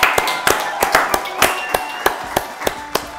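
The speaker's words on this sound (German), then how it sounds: "macht mal einen großen Applaus für Christoph Maria Herr" Sparse, sharp hand claps from a small studio audience, a dozen or so distinct near claps at an uneven, slow rhythm rather than a full ovation, with a faint background hum.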